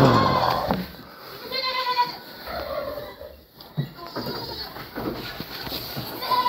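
Goats in a billy goat stall bleating now and then amid barn noise and a person talking, with the calls of varying loudness throughout.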